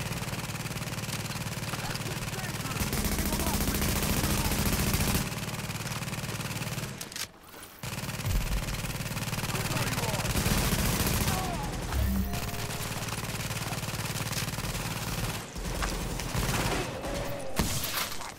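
Turret and weapons fire in The Division video game, dense, continuous automatic gunfire bursts over a loud, busy mix, with brief drops in intensity and a short gap partway through.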